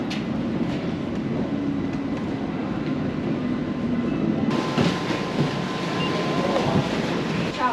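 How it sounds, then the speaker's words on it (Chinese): A cog railway train climbs toward Jungfrau in the Swiss Alps, its steady rumbling roll heard from inside the carriage with faint rhythmic rail clatter, continuous and moderately loud. "沿路坐齿轨列车上去少女峰"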